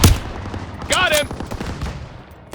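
Gunfire and machine-gun bursts in a Call of Duty battle for the town of Marigny, with a loud opening blast, sharp repeated shots and clatter continuing throughout, mixed with a shouted voice and a whistling streak partway through.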